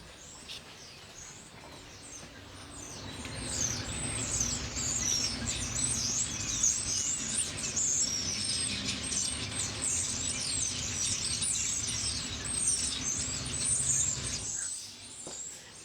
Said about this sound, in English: I hope you can hear the crazy tweeting birds